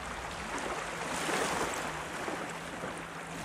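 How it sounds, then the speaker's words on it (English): Ocean waves wash over a shore in a steady, broad hiss of surf and rushing water that swells gently and keeps going throughout, with no voice. "just as the waves wash over the shore."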